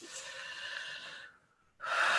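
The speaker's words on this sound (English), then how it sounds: "Take a nice deep breath" A person draws a long, slow, audible deep breath close to the microphone, the airy inhale holding for over a second before a brief pause and a sharper, louder rush of breath.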